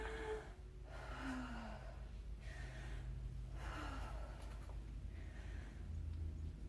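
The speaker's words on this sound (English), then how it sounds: "take 3 deep breaths" A patient takes three deep breaths in a medical scenario, each a loud close inhale followed by an exhale, evenly spaced over several seconds with no speech.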